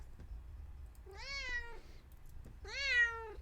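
A real pet cat meowing indoors, two distinct drawn-out meows a second apart, fairly close and clear against a quiet room.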